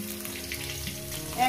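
Potato pieces frying in a hot pan give a steady, close sizzle and crackle with a slight stirring rustle near the end.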